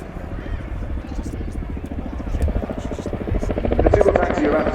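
An RAF Chinook HC.6A twin-rotor helicopter performs a flying display at RIAT 2018, its loud rhythmic rotor thudding and engine buzz swelling steadily under a commentator's amplified talk.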